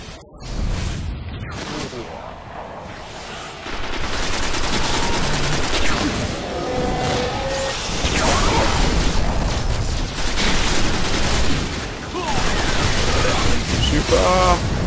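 Gunfire and explosions in the video game Destiny, with loud rattling bursts, dense sustained firing and booming blasts that continue throughout, with voices talking over the fighting.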